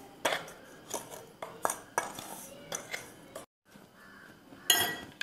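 Oreo biscuit powder being scraped into a bowl, a series of clinking, scraping taps of a utensil against dishware at close range, with a brief pause before a final clatter.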